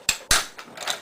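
The bolt of a Lee Enfield No. 4 Mk 1 rifle gives two sharp metallic clacks as it slides back in, followed by fainter scraping and clicking, close and quiet.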